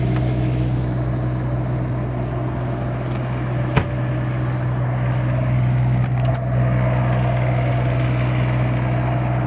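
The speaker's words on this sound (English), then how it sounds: "Cummins Onan diesel generator. I've got that running right now. It does make a little noise, but it's tolerable." Cummins Onan 8,000-watt diesel generator on a 2023 Newmar Super Star motorhome running steadily with a low constant hum, one sharp click and a few faint clinks over it.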